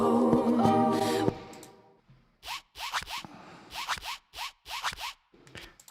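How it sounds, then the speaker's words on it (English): A clothing zipper is zipped in a quick series of short, scratchy runs, heard close and alone after a brief stretch of music fades out. "That's just a zip."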